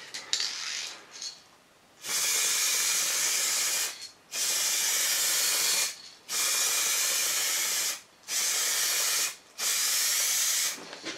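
A spray gun lays the final coat of paint on a repaired body panel of an Opel Kadett during restoration, five long loud hissing bursts separated by short pauses.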